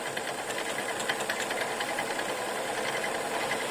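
A small steam engine, a Cheddar Proteus, chuffs and hisses with a rapid, even mechanical rhythm as it drives a pump, steady and close throughout.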